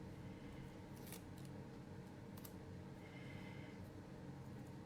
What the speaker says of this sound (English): I'm just gonna cut a little piece of the silver thread.